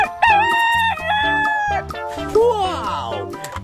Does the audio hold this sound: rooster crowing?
yes